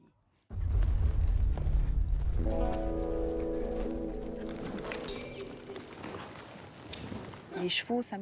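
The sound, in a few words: horse hooves during cattle cutting exercise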